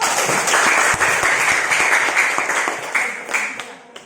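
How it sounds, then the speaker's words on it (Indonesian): An audience at a teacher training session claps, a dense round of applause that holds steady before thinning into scattered claps and fading out. "Beri aplaus dulu."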